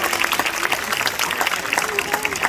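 An audience claps for a singer in a short burst of dense, steady applause, with a voice speaking over it.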